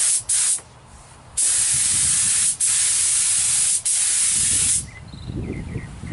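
A spray gun lays a thin first tack coat of paint on a car fender outdoors on a warm, breezy day, giving loud bursts of hissing spray in several passes separated by short pauses.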